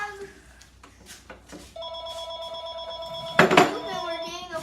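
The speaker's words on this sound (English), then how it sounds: "We're getting a phone call, so I'm going to stop the recording for now." A telephone rings indoors during a break from workshop repairs on handles and hinges, its steady ringing tone sounding clearly from mid-clip, loud and close, over quieter background noise and some clatter.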